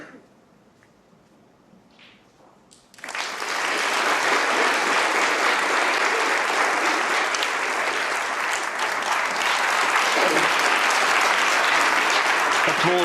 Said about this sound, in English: Applause from both sides of